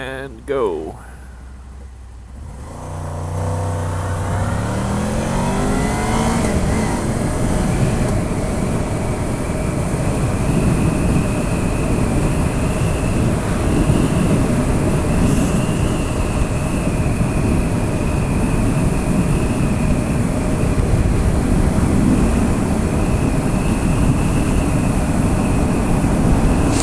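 A 2007 Honda VFR 800 motorcycle with a VTEC engine revs up sharply, its pitch climbing, then settles into a loud, sustained engine roar heavily mixed with rushing wind noise.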